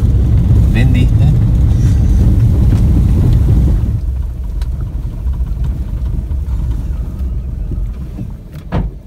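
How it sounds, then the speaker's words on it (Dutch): Wind gusts buffet a parked VW Polo, a loud low roar for the first few seconds that drops to a steadier, quieter rush, with a voice talking through it. "Ja, dus een beetje daar winderig."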